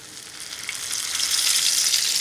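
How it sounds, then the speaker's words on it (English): Steady, bright sizzling of potato latkes frying in hot oil, growing slightly louder, with no voices. "While these little potato miracles are frying up"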